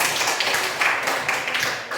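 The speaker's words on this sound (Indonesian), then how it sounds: "Bagus, tepuk tangan." A classroom group applauds, a dense, steady patter of many hands clapping together that holds at an even level for two seconds, with no talk over it.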